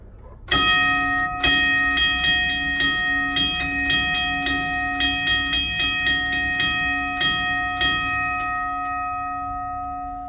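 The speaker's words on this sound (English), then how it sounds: "It has a unique cadence to it, so rather unique bell." A mechanical pump alarm bell near the Tod engine rings loudly in repeated clusters of quick strikes with short pauses, then stops and its ringing tone slowly fades out.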